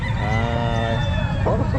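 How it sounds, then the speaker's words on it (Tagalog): Rooster crowing at a pet market, one loud full cock-a-doodle-doo close by, with market chatter and background noise underneath. "Gandang manok oh."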